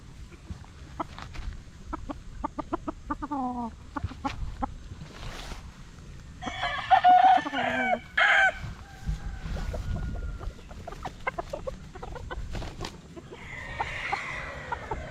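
A stag rooster clucks in short repeated bursts, then lets out a loud drawn-out crow, with a further crow fainter near the end, all close by against quiet outdoor background.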